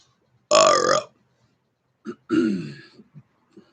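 Two loud, close belches, one short and one longer, each followed by brief throaty sounds, separated by silence.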